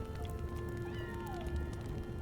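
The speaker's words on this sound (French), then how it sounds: "Oh, j'entends le chat qui crie." A cat in a video game meows faintly with a couple of short, thin cries over low background game ambience.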